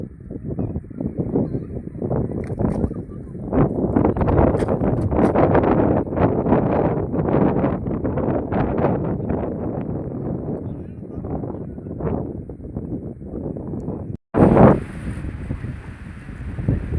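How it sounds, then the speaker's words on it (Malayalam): Strong, cold wind buffets the microphone at an outdoor stop beside a tourist bus, a loud continuous rushing roar throughout while someone talks. "ഭയങ്കരമായ കാറ്റാണ്, തണുത്ത കാറ്റാണ് അടിക്കുന്നത്."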